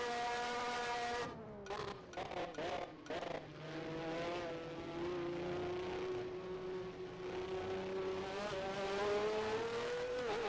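A 1988 Formula 1 car in rFactor 2 screams through corners at Italy's circuit. The high engine note drops and chops on downshifts, then climbs in a long sustained wail, loud and close.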